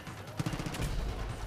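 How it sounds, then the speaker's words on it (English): Mortar fire in the Far Cry 5 video game: a cluster of sharp, loud blasts and rumbling impacts bursts out for about half a second, then fades into a steady low rumble. "Holy shit, a mortar."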